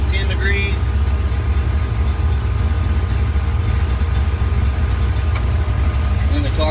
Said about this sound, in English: And the car changes tones as well.